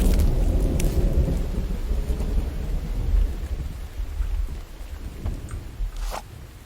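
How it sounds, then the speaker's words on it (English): Rain and thunder in the survival video game The Infected: a loud, continuous downpour with deep rolling thunder that gradually eases, plus a couple of sharp crackles near the end. "I guess it's raining right now."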